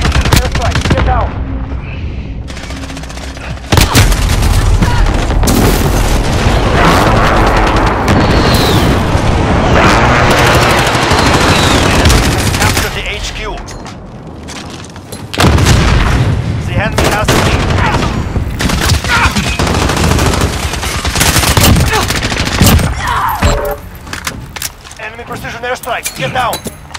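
Airstrike explosions and gunfire in an online match of Call of Duty: Modern Warfare, with loud booms and bursts of automatic fire layered over in-game radio voices, then a brief lull before the heavy blasts resume.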